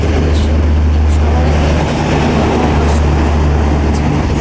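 A train rumbles loudly and steadily with a deep low hum and rattling carriages, arriving at Falakata station, close by and continuous throughout.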